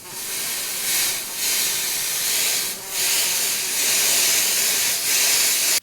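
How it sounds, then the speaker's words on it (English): Bursts of aerosol bug spray hissing, several presses in a row with brief pauses between, close and fairly loud. "What do you think bug spray's for?"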